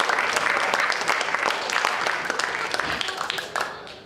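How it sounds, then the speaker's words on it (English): Audience applause at a small-theatre magic show in Canton, Georgia, a steady crowd of clapping hands filling the room for about four seconds, then thinning slightly toward the end. "Give Clark a nice round of applause"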